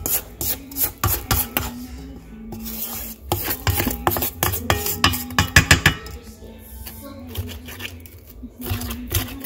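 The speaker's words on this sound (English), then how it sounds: "So I'm gonna scrape down the sides." A spatula scrapes down the sides of a mixing bowl of banana bread batter in a close series of uneven rasping strokes, with occasional clinks against the bowl.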